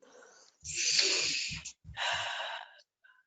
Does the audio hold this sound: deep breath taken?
yes